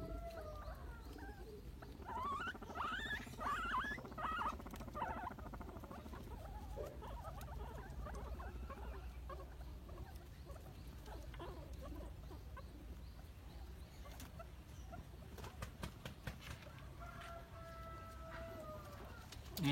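Guinea pigs, a pregnant mother with young, moving about their cage, giving soft squeaks and chirps over rustling and pattering bedding, continuous and close, with no talking.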